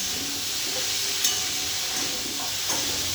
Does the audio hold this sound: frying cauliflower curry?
yes